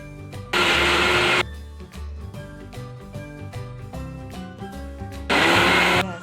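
A mixer grinder grinding coconut chutney whirs loudly in two short bursts, starting and stopping abruptly, with quieter kitchen sounds and background music in between.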